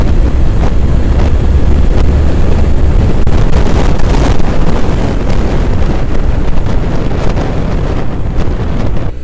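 Heavy wind buffets the microphone while riding a Triumph Thruxton motorcycle, a loud, continuous roaring rush with no talking.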